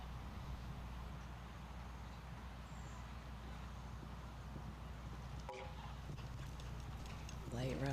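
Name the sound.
mare's hooves during show jumping round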